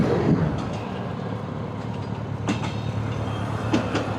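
A train rolls past close by in a steady, loud rumble, with sharp clacks and squeaks of its wheels on the rails breaking through around the middle and near the end.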